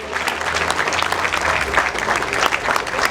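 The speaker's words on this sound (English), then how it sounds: "Big round of applause, ladies and gentlemen." Audience applause for a government minister at a public event, a steady dense roll of clapping that fills the whole stretch at moderate loudness with faint crowd murmur beneath.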